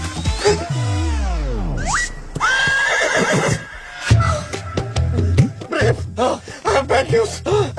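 A horse whinnies loudly with a long descending neigh, followed by snorts and clattering, busy sounds close by.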